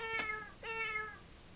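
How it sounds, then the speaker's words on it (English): Two short recorded cat meows from a VTech Little Smart School Yard learning toy, the first brief and the second slightly longer with a rising then falling pitch, clear and alone against a faint hiss. "And their pet cat."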